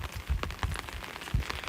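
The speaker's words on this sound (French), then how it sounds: "vous entendez vraiment le bruit de la pluie" Steady rain patters across the whole stretch, a dense wash of drops with a few louder splashes standing out, heard alone with no talking.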